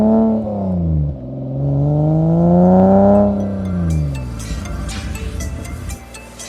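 A 1989 BMW 325i Touring E30 wagon with a swapped S52 engine pulls hard, its exhaust note sweeping up and easing off in smooth, strong rises before fading into road noise, with no voices.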